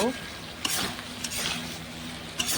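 Potatoes frying with ginger-garlic-green chili paste, coriander, cumin and Kashmiri chili powder, stirred in a pan: continuous close sizzle with a few spoon-on-pan clicks and scrapes, no talking.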